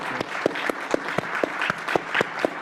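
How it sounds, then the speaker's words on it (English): A lecture audience breaks into sustained applause at an evening memorial lecture, with dense overlapping claps and a few sharp, louder individual claps standing out near the front. "let's all just give a round of applause"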